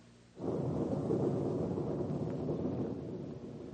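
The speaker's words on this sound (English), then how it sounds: "we're going to have a storm" Thunder from an approaching storm, a radio drama sound effect, rolls in as a loud, sustained low rumble that swells abruptly and holds steady before easing slightly.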